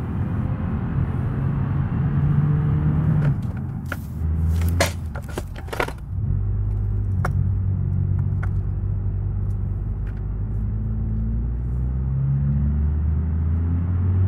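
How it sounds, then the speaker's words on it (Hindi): A Hyundai Creta engine held at full throttle in a mountain driving game, a steady droning rumble with rising tonal whine, interrupted midway by a few sharp clunks and bangs before the strained engine note resumes. "मैं पूरी पूरा थ्रॉटल दे रहा हूं तब ये हाल है इसका।"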